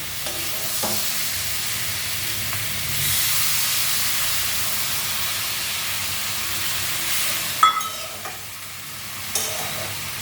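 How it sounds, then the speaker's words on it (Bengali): Water hits a hot pan of vegetarian curry, setting off a loud, steady hissing sizzle and steam that swells and then settles, with a few scraping clinks of a utensil near the end. "এখন একটু জল দিয়ে দেবো।"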